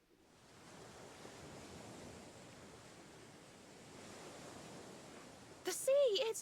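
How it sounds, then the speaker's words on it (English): Steady seething wash of churning, boiling seawater in the Dragon Quest XI video game, a broad hiss that runs throughout, with a brief louder tonal burst near the very end. "The sea, it's boiling."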